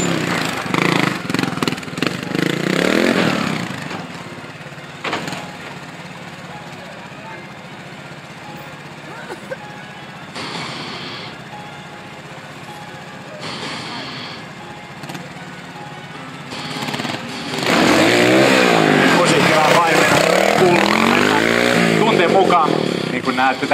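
Motorcycle engines rev and snarl at a stunt show at an exhibition hall in Hyvinkää, bursts of loud revving at the start and a sustained roaring run near the end, with an announcer talking over the engine sound.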